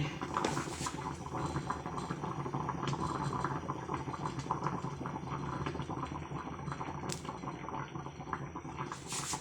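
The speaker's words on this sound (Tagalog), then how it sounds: "Kumukulo na ang aking kanin." Rice bubbling in a pot, a soft continuous simmer with small pops and gurgles, close by and steady, with no talking.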